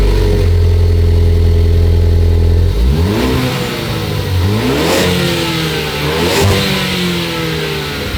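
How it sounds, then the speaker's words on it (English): A Ford Focus ST starts from cold, settling into a loud, steady idle before the engine is blipped through several rising and falling revs, close and alone. "So we do the last ever cold start of the Focus ST."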